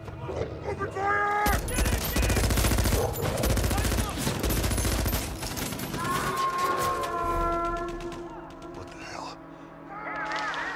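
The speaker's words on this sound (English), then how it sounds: "Set a perimeter! Open fire!" Soldiers open fire in a dense fusillade of automatic gunfire from an action film, bursts overlapping with shouting voices and swelling music, loud and close throughout.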